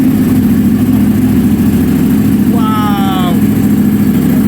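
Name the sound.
Ducati Panigale V4 superbike engine revving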